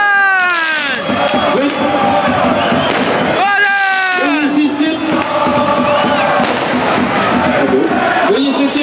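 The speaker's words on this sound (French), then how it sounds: "veuillez cesser les feux d'artifice." Fireworks set off by fans at a National 2 football match in Rouen crackle and bang repeatedly over a loud, roaring stadium crowd, with a public-address voice speaking over the din.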